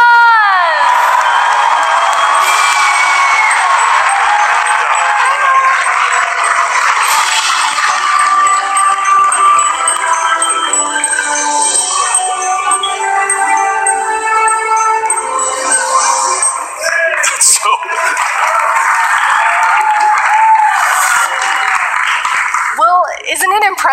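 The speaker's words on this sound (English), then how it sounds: "Let's give all of our winners one last round of applause." A Minecon crowd cheers and shouts for cosplay contest winners, a loud, sustained mix of whoops and excited voices with clapping underneath and people talking over it.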